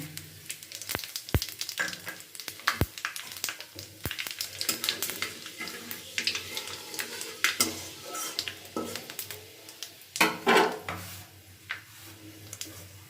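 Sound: bay leaf, dried chilli and five-spice tempering sizzling in hot oil

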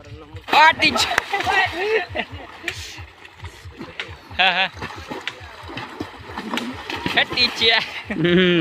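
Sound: people jumping and splashing into a river

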